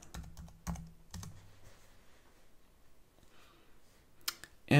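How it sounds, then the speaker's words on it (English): Password typed on a computer keyboard, a short cluster of close key clicks at the start, then a quiet lull before a few sharper taps and a louder click at the end. "Type my password, right?"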